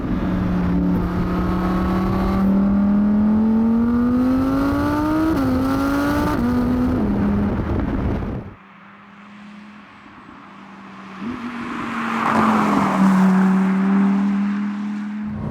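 A high-revving 620hp Audi R8 GT rear-wheel-drive engine climbs steadily in pitch, shifts, drops away briefly, then pulls hard again, loud and close throughout.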